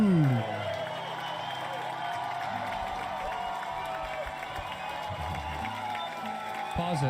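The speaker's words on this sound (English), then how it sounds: "They're chanting, Rudy, Rudy." A crowd applauds and chants in a steady, rhythmic roar that holds throughout, with cheering and scattered whoops heard from a distance.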